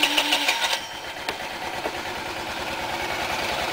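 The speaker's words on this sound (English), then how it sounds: "Keys are in, let's start the engine." A Honda Elite 80 (CH80) scooter engine settles into a steady, close mid-pitched idle with a rapid even putter after a brief start-up burst, with no talking.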